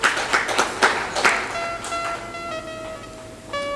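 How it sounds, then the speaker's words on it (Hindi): Audience at a satsang gathering clapping in a brief, uneven burst of hand claps that fades out, followed by sustained tonal musical notes. "ताली बजा दिया करो।"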